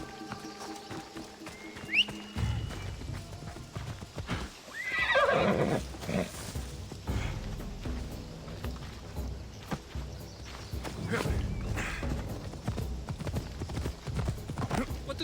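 A horse in Assassin's Creed Odyssey gives a loud whinny, then gallops with steady rhythmic hoofbeats, close and continuous, while characters speak over the clip-clop.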